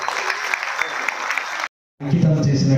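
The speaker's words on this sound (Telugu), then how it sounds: "గట్టిగా చప్పట్లు" Applause rising at a public programme after a ceremonial lamp-lighting, dense clapping with a voice over it, a brief gap, then a lower-pitched voiced sound continues.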